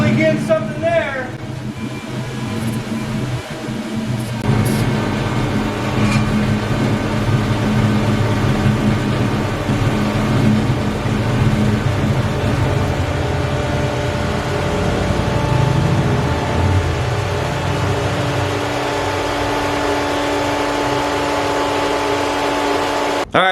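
An LS-swapped Chevrolet Colorado engine idles with a steady mechanical hum and hiss while brake cleaner is sprayed around it; after about twenty seconds the running note drops away as the engine stalls, with someone talking over it.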